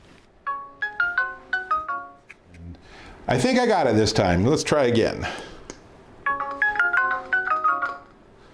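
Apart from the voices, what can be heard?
Nooie doorbell base station ringing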